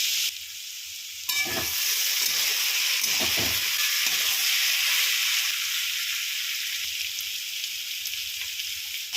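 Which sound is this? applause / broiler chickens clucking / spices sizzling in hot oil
spices sizzling in hot oil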